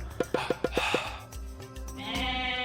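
Sheep bleating in the Age of Mythology video game: a quick run of about six short, clipped bleats, then softer game ambience and a brief higher tone near the end.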